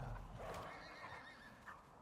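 Horse in a video game gives a faint whinny with soft hoof clip-clops underneath, heard alone in a muffled outdoor setting.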